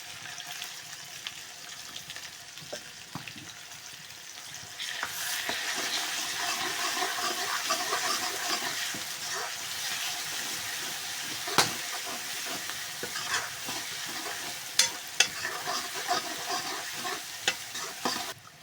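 Garlic fries in a pan with a soft, continuous sizzle that grows fuller after a few seconds. Scattered crackles and light stirring noises break through now and then. No talking.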